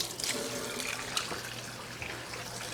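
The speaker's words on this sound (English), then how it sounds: "And I'm going to put cold water over them" Cold water pours from a tap over sliced cucumbers and onions in a bowl, a steady close splashing rush with a low hum underneath, no talking.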